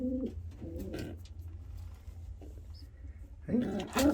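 Pigeon cooing in a loft, soft low throaty coos at the start and again near the end, close by, with quiet pauses and faint background noise between.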